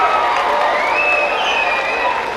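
Tennis crowd catcalling, a steady wash of loud massed voices with drawn-out whistling tones rising above the din.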